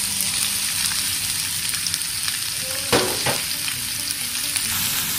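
Chopped onions fry in hot oil for a banana-leaf pomfret roast, a loud continuous sizzle with light scraping stirs and a brief clatter near the middle, no speech.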